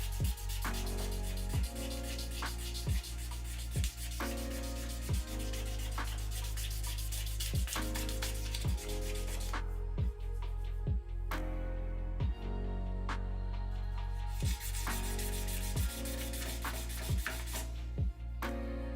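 Sanding on a guitar under repair at a workbench, leveling high spots: a steady, loud abrasive rubbing that runs continuously, with repeated short sharp knocks and scrapes punctuating it, and no voices.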